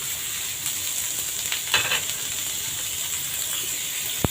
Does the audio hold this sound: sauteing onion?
yes